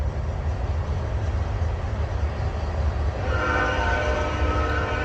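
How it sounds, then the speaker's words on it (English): A train passes at steady volume, a heavy low rumble of rolling cars with a horn-like tone rising in over the last seconds, fairly close and unaccompanied by talk. "train going by"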